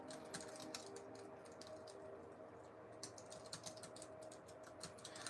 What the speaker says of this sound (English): Let me type my response.